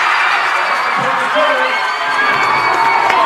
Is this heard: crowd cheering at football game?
yes